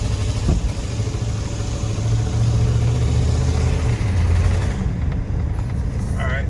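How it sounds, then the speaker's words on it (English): An old OBS work truck engine with an exhaust leak runs close by, a loud, steady low rumble that holds throughout and eases slightly toward the end. "Sounds like a little exhaust leak action,"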